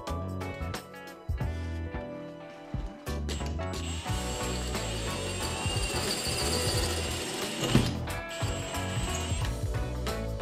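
A drill bit boring into a hollow plasterboard partition wall produces a loud, sustained whirring grind with brief pauses and restarts, close to the mic.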